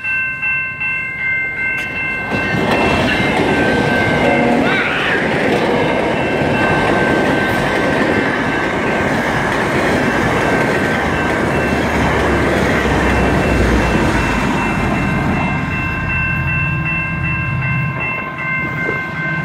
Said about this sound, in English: Holy cow, we got lots of trains.